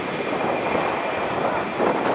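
A JAL Boeing 767 jet taking off from Haneda Airport, heard as a steady, loud, broad engine roar that does not let up, with wind noise mixed in.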